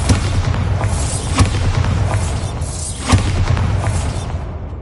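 Bombarda explosion spell in Hogwarts Legacy, heard as loud booming blasts, with two sharp thumping impacts rising above a continuous dense rumble of game effects, no voices.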